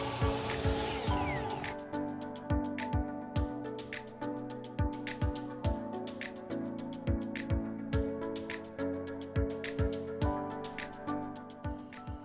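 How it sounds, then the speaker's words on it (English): A power tool works through lumber for a firewood shed's floor frame, giving a steady series of sharp, evenly spaced mechanical clicks and bursts over a continuous motor hum, loud and close with no talk. "the first thing we need to do is start cutting lumber for the frame of our floor"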